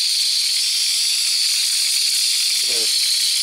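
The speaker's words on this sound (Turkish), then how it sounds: "İnanılmaz buhar veriyor." A Fakir steam mop from Bim hisses loudly and steadily as it releases steam, the rushing sound unbroken throughout, with a brief spoken word near the end.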